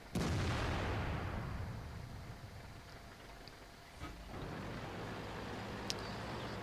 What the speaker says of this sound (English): Only a little bit of him is showing. I take the shot anyways.